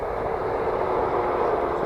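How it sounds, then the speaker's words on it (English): A train heading into Cardiff rumbles past as a steady, broad, continuous roar at moderate distance, with no talking over it. "There's a train going by there, heading into Cardiff."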